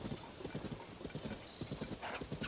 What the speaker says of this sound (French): Chaque fois que j'essaie d'attraper un cheval, il s'enfuit au galop.